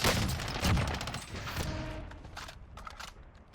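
Rapid automatic fire from an FFAR assault rifle in Call of Duty Warzone, a quick close burst of shots that trails off into fading echoes and softer distant sounds.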